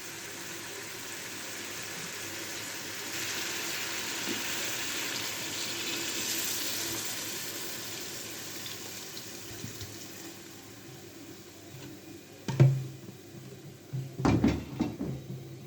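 Water runs steadily into a pot for several seconds, about half a liter, a continuous hiss, followed by a few clinks and knocks of cookware near the end.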